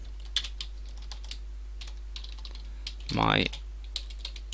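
Soft, scattered clicks of a computer keyboard as code is typed, close and quiet, with a brief spoken word partway through.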